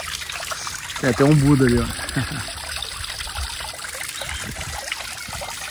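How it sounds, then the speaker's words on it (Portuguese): Running water trickles steadily in the grounds of a country inn, a soft continuous babble under a person speaking briefly near the start, then carrying on alone. "essa água corrente aqui que fica fazendo esse barulho gostoso"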